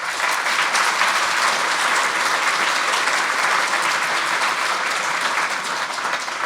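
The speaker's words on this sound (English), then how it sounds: "So can we give them a round of applause," Sustained audience applause at a panel discussion event, dense steady clapping from a large crowd filling the room at an even level throughout, with no speech over it.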